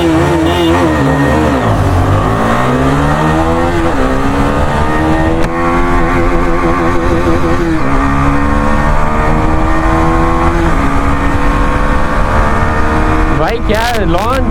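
A Bajaj Pulsar 220F BS6 and a Husqvarna Vitpilen 250 BS6 in a drag race: loud, continuous engine roar with rising revs and repeated gear-shift dips, close and steady throughout, with brief wind buffeting near the end.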